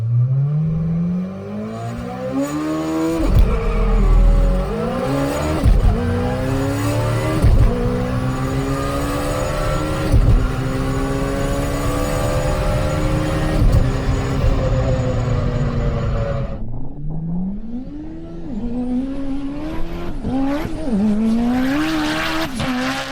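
Turbocharged four-cylinder drag cars on drag radials launch hard, their engines screaming up through rising revs with tire squeal and gear changes before another car pulls away loudly, close by and with no talk.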